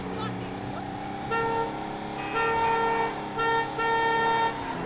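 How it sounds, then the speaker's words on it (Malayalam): Car horns honking in GTA V Online gameplay, several sustained toots in bursts over an engine drone, with voices talking underneath. "വളവില് നമ്മള് ഹോൺ അടിച്ച് പോണെന്ന് പറയാ"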